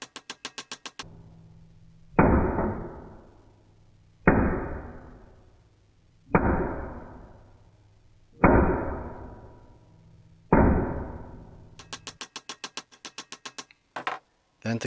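Small hammer strikes the axle end of a telephone van held in a vice: five sharp, ringing blows about two seconds apart, each decaying away, framed by quick ticking clicks at the start and end.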